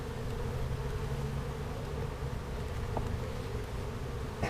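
Honeybees hum inside an open hive as comb is drawn on the frames. A close, continuous drone fills the scene with a faint click in the middle.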